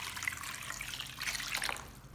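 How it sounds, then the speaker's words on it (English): Water poured over celery leaves and baking soda in a bowl makes a soft, steady trickle with faint bubbling splashes, fairly quiet and close, with no voices. "Pour in enough water to fully submerge the celery leaves."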